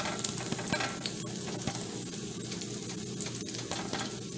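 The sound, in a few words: pancake batter cooking in a pan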